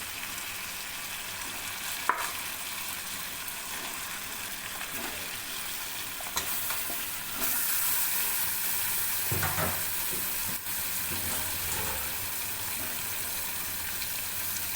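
Chicken pieces for Bengali chicken kosha fry in oil with tomato purée in a pan, a steady close sizzle with occasional stirring scrapes and bubbling throughout.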